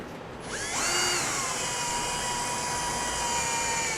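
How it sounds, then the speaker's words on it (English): A power drill drilling holes to install a Blue Ox base plate on a 2011 Chevrolet HHR spins up and runs at a steady high-pitched whine, loud and close, holding constant after a brief start. "Now we want to grab our 30-second drill bit, and we can get those taken care of."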